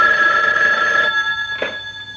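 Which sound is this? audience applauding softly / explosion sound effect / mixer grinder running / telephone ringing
telephone ringing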